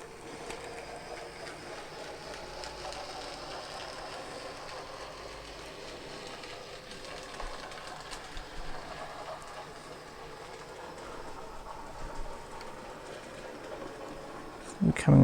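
A Farish LMS Ivatt 2MT tender locomotive model runs around a model railway layout, giving a steady whirring, rumbling run noise with faint clicking that builds slightly toward the end, while a person talks over it.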